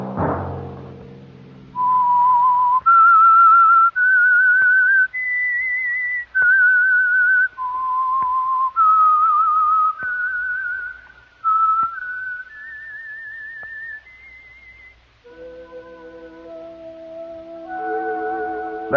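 A lone whistler performs the eerie theme tune of The Whistler radio drama, a clear, close melody of sustained notes rising and falling over about fifteen seconds, followed by soft orchestral chords.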